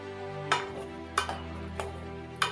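A spoon stirs lentils, chopped tomatoes and green chillies in a cooking pot for bottle gourd sambar. Four quiet, evenly spaced scraping strokes sound over a low background hum.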